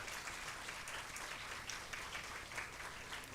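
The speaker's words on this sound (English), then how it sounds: "Can we all clap for them?" An audience at a university appreciation event for psychologists applauds steadily, a dense, even wash of many hands clapping heard from within the hall, moderately loud and continuous throughout with no talking over it.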